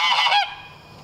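A goose named Lucky honks loudly and nasally in a close, short burst answering a chicken, the calls fading into quiet background within a second.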